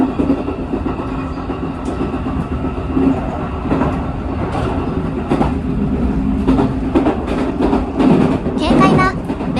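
Train wheels clack rhythmically over rail joints amid a steady rumbling rolling noise on the JR Kansai Main Line arriving at Kizu Station, with a brief squeal near the end.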